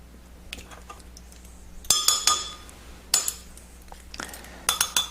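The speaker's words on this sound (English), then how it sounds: "I'll just stir it around a little bit, kind of speed up the process." A spoon stirs thick barley malt syrup in a glass, producing scattered clinks against the glass. The clinks come in short, irregular bursts at close range over a quiet background, with no talking.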